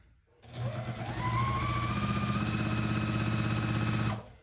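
A sewing machine runs one steady burst of back stitching through quilt fabric, loud and close, starting and stopping cleanly with no talk over it.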